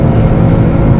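A loud, dense roar from a 2018 Aston Martin DB11 V8 engine at full throttle holds steady, a thick, low rumble with no break and no voices.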